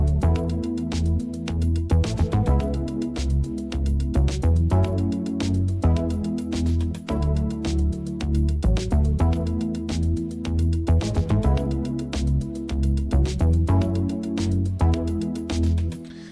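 A music track plays with two layered drum loops, driving a steady beat with repeating punchy hits and a bass line beneath, full and loud from start to finish, with no voices.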